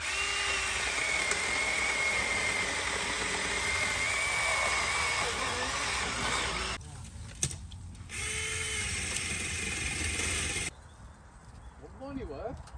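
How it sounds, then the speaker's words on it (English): A battery-powered chainsaw cutting into a conifer hedge whines loudly and steadily, drops out briefly, then revs again before stopping, with speech heard around it. "Hedge reduction with a battery powered chainsaw."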